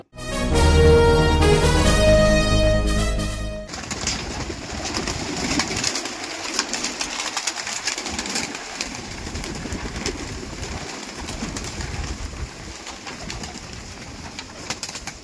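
Madras pigeons offered for sale coo and flutter near a loud burst of music at the start, then a steady rustling background with faint bird sounds throughout.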